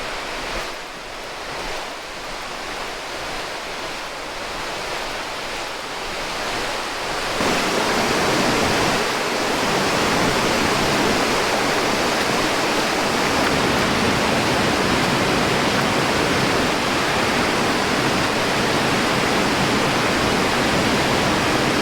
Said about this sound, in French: On entend de l'eau